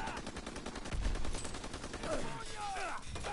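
Sniper and other gunfire in the video game Call of Duty WW2, a burst of rapid shots and sharp cracks over a busy game background, with a faint voice underneath.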